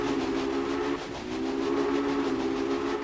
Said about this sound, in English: you can also pull the whistle if you really want